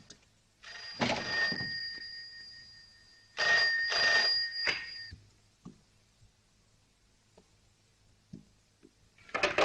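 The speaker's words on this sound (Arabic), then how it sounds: "تليفون بيرن على الفاضي" An old-fashioned telephone bell rings in two long bursts in an empty, locked home, loud and close, followed by quiet room sounds and faint knocks.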